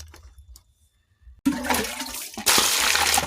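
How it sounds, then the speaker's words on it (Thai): Tap water gushing while snails are washed before boiling, starting abruptly after near silence and then surging louder, a close splashing rush with no talking. "เดี๋ยวล้างหอยต้มก่อน"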